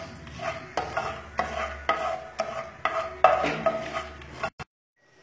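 Garam masala spices frying in ghee and oil in a pan for Bengali pulao, stirred in steady scraping strokes about once a second over a soft sizzle, ending in a brief clatter and silence.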